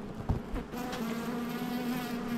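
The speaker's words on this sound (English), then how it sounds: "Yeah, it's a lot of bees on the" Dense, steady buzzing of many honey bees swarming around an open backyard hive as a frame is lifted out, close and continuous with a low droning hum throughout.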